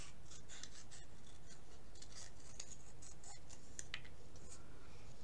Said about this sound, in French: Je vais couper comme ça.